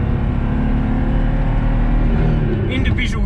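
BMW E46 M3 with its naturally aspirated S54 straight-six, a steady loud engine drone while driving, with someone talking over it.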